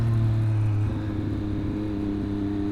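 Motorcycle engine from a Triumph-style 1200RS or Honda CB650R test ride, a steady droning hum that shifts pitch partway through, heard close and without talk.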